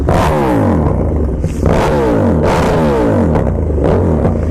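A KTM SuperDuke motorcycle fitted with an Austin Racing exhaust revs loudly and close up, its engine note rising and falling in repeated sweeps through the rev range with a harsh, booming exhaust roar throughout.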